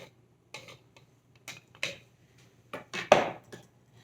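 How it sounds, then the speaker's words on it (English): A metal spoon scrapes and taps inside a kitchen blender jar, giving a string of sparse, close clinks and short scrapes separated by quiet gaps, the last few louder. "Just gonna use my spoon here. Make sure to get everything out of the blender."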